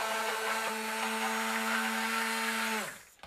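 A stick blender whirs steadily, mixing a batter of lemonade soap with essential oil, a loud close tonal drone that winds down and stops near the end, followed by a small knock.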